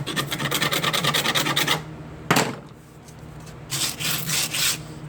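Rasping file strokes on wooden soft jaws for a slab saw vise, clearing off burrs and splinters; a quick run of rhythmic rubbing strokes, a brief pause with one sharp knock, then another burst of filing, close and fairly loud.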